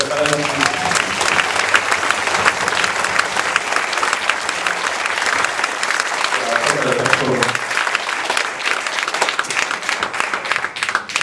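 Audience at a theatre festival closing ceremony in Noisy-le-Roi and Bailly breaking into loud, sustained applause that fills the room for over ten seconds, with voices speaking over it at times.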